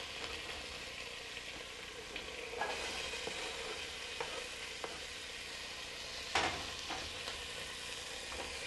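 Onions for a Greek beef stew fry in a pot with a steady, close, quiet sizzle, punctuated by a few soft clicks and scrapes of stirring, and no talking.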